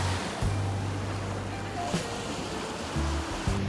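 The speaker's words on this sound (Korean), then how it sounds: "뭐 파도를 타 진짜" Steady wash of ocean surf at a Hawaii beach, a continuous broad roar of breaking waves heard from the shore with a faint low hum beneath, no voices.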